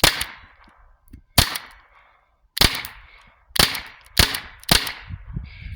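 A TR50 .50 caliber CO2 self-defense pistol fires six sharp shots, close and loud, each a crisp crack with a brief ringing decay, spaced irregularly with quiet gaps between them.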